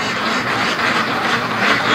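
Ducks quack steadily and loudly at close range across the whole stretch, many calls overlapping into a dense chorus, with Brant geese also gathered at the same spot.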